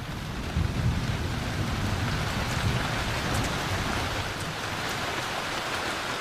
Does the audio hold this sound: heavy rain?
yes